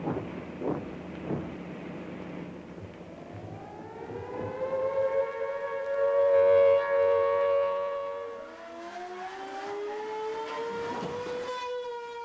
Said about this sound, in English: the air raid siren sounds over Hyde Park School